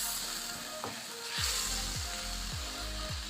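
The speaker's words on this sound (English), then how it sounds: "After adding the soy sauce, you also mix." Indomie noodles and soy sauce being stirred in a hot pan, with a steady sizzle under a run of rhythmic scraping strokes, close and fairly soft.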